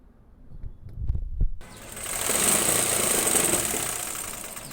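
A sewing machine stitching a drawer, starting after a few soft knocks and then running in a steady, close whirring hum with a high mechanical whine that swells and eases slightly.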